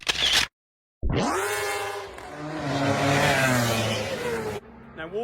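A sports car driving on the Alton Park track, its engine rising into a loud, sustained rev as it speeds past close by, then cutting off abruptly.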